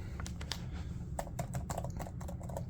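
Typing on the keyboard of an HP OMEN Transcend 14 gaming laptop: a quick run of light, crisp key clicks in uneven bursts over a steady low background hum, close and fairly quiet.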